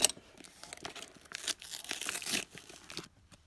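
Cardboard box packaging crinkles and tears as scissors cut it open, a busy run of close, rustling crunches that fades out at the end.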